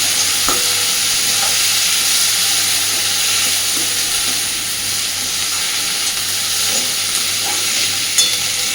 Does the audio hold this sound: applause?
no